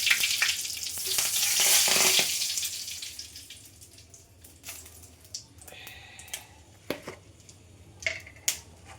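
Whole spices, including bay leaf, dried chili and cumin seeds, hit hot oil with a loud burst of sizzling that fades into softer crackling and scattered sharp pops, close up and with no talk.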